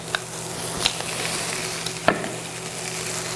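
Perilla leaves sizzle and crackle in a hot pan on an induction hob, a steady frying hiss with a few sharper pops and stirring scrapes, no voices.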